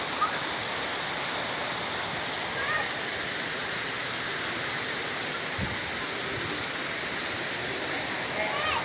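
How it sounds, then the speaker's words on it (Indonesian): Heavy rain pours steadily in Bogor during a storm, a dense, constant hiss of water falling on surfaces nearby, loud and unbroken, with someone talking faintly underneath. "Posisi di bawah hujan, di atas sama hujan."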